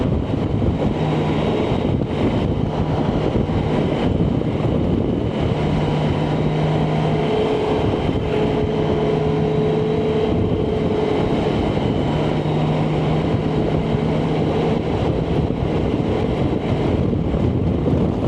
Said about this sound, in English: there's that wind that's still blowing